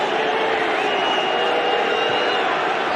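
Ayr supporters cheer at a football match against Kilmarnock, a steady distant crowd roar holding throughout with no sharp peaks.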